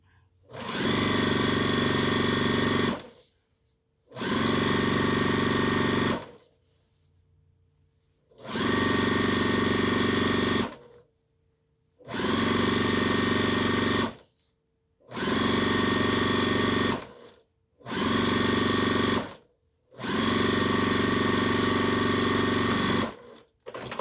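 A sewing machine stitches folded batik fabric apron straps in seven steady bursts of rapid mechanical whirring, each lasting a couple of seconds with short silent pauses between runs.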